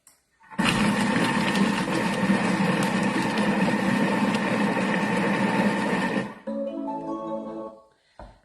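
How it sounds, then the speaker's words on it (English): A Thermomix chopping capsicums and tomatoes for sweet chilli jam at speed 4, a loud steady motor whirr for about six seconds that stops abruptly, followed by a short series of electronic beeps. "we will get the Thermomix to chop these up, and I think 5 seconds at speed 4 should be fine"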